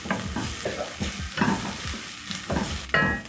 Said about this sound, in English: I'm going to add that in my pot, stir, and then I'm going to let my garlic cook until fragrant